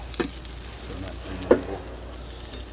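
Mung beans being stirred in a frying pan, a low steady sizzle with a few soft scraping knocks of the spoon spaced across the moment.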